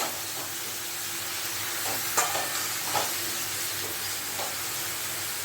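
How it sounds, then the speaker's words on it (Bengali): Eggplant stir-fried with ground poppy seed paste and green chilli in a pan, a steady hiss of cooking with a few scraping stir strokes, close and alone. "তারপরে পোস্তটা দিয়ে একটু বেগুনটাকে কষিয়ে নিতে হবে"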